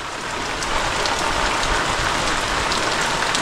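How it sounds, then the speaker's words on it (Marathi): Heavy rain pouring down in Konkan, steady and dense, drumming hard on surfaces nearby with a continuous hiss and no voices. "आता मोठा पाऊस आलाय."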